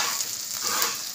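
Turmeric stirred into mustard-paste-coated fennel seeds frying in hot oil gives a steady, dense sizzle, loud and close, hissing continuously without pause.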